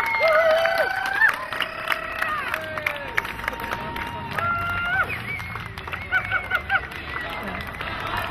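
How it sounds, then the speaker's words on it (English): A crowd at an outdoor rally cheers for arriving marchers, with whistles and horn-like tones over scattered clapping and shouting, fairly close and continuous. "let's give them a big cheer"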